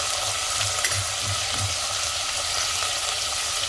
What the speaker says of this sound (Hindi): थोड़ा सा सावधानी से डालें क्योंकि इसके छींटे उड़ते हैं। अब एक बार चला लेंगे इसे।